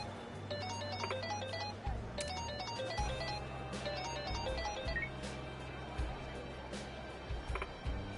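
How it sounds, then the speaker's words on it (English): A phone rings repeatedly in the video game Pirate Yakuza, a bright electronic ringtone of repeating chiming notes played over a steady background music bed for several seconds. "She's getting a phone call."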